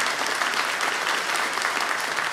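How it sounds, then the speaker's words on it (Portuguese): Warm, dense applause from an audience welcoming three coffee researchers at a field quality event, steady and close with no talk over it. "um aplauso caloroso para esses 3 pesquisadores que se juntam a gente agora"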